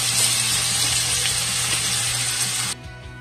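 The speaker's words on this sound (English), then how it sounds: "our bacon is almost got to the point where it's nice and crispy" Strips of bacon frying in a pan until crispy, giving a steady, dense sizzle close up that runs alone and unbroken before cutting off abruptly near the end.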